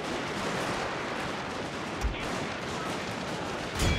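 Suppression gunfire in a Shogun 2: Fall of the Samurai battle gives a continuous wash of distant massed musket and rifle fire, with a couple of sharper reports standing out near the middle and end.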